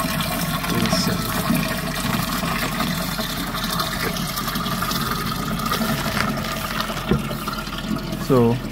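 Water gushes continuously into a container at a broiler poultry farm, mixing as it fills, producing a close, steady rushing and churning, with a brief voice near the end.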